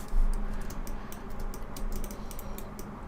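Computer keyboard keys pressed rapidly while working in the Modo 3D software, a close, steady stream of light clicking taps without any talk.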